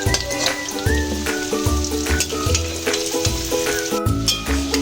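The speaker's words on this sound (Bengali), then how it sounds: "চপগুলো এবার আমি একটা করে পাল্টে নিচ্ছি।" Banana flower and shrimp chops crackle loudly in hot oil as they are flipped one by one, the close steady sizzle punctuated by light scraping and clinks.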